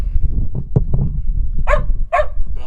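A dog barks twice in quick succession, fairly close, after a stretch of low rumbling background noise at a flatbed truck stop on a windy day.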